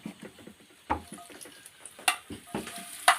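Ginger and garlic fry for a chicken chilli, a quiet sizzle under soft stirring scrapes, with a few sharper clinks of a utensil against the pan, close up.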